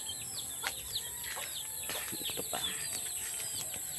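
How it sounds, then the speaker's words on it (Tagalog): Backyard chickens, pet hens, cluck and chirp in scattered bursts with a brief flutter of wings, close by and moderately quiet in an outdoor setting. "mga manok, mga be."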